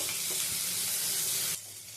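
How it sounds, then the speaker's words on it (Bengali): Chopped tomato sizzles with onion in a hot pan, a dense continuous hiss that drops slightly in level near the end, with no talking. "এবারে এর মধ্যে দিয়ে দিচ্ছি কেটে রাখা টমেটোটা হালকা করে ভেজে নেব"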